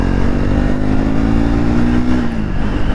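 Triumph Speed 400 motorcycle engine droning steadily while riding, a loud, close, continuous hum with a brief pitch drop near the end and wind noise, no talking.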